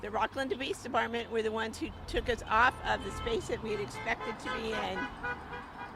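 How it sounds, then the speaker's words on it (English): Cars go by on a very busy street beside a public sidewalk, their horns tooting now and then beneath continuous close talk from a person speaking throughout. "all of the cars that are coming by honking and supporting us in our effort"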